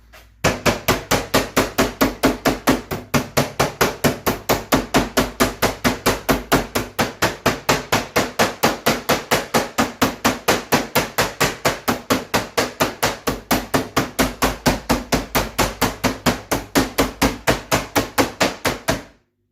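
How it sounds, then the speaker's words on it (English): A meat mallet or hammer pounds a chicken breast flat for katsu curry, dozens of rapid, evenly spaced whacks continuing for about twenty seconds, close and loud with no talking. "I'm not hammering it wafer thin. I'm just making sure it's about an even thickness."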